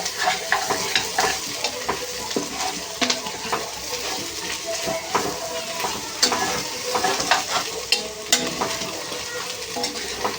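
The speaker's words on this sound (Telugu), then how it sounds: "అల్లం వెల్లుల్లిపాయ జీలకర్ర వేసి పేస్ట్ అండి ఇది కూడా వేసేసి ఫ్రై చేసుకుందాం" Ginger garlic paste and cumin frying in a pan, giving a continuous crackling sizzle broken by repeated scraping stirs and metallic taps close by, with no voices.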